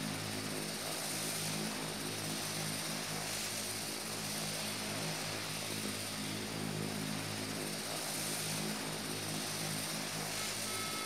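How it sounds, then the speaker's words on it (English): Propeller aircraft engines throttled back in the Prepar3D v4 flight simulator game give a constant droning hum with a steady hiss, unbroken and even in level throughout, with no speech. "I pulled the throttles back because I want to slow up"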